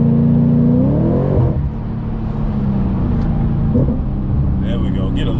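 A supercharged Audi B8.5 RS5 with a JHM exhaust downshifts on the road, engine tone climbing sharply then settling into a rumbling idle-like burble, with a faint whine and a brief higher blip late.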